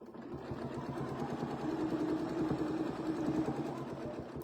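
A sewing machine stitches a quilt, a continuous fast mechanical hum and needle rattle, close and steady throughout, with no talking.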